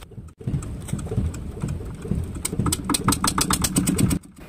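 A fishing boat's engine runs at sea, a steady, loud rumble with a rapid pulsing beat that grows more distinct toward the end before cutting off abruptly.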